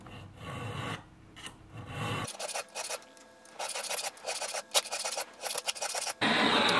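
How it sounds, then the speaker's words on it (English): A hand file cuts a square onto the end of a homemade silver steel tap, producing rhythmic rasping strokes with short pauses between bursts, close and clear, with no speech. "after very quickly filing a square for our tap wrench"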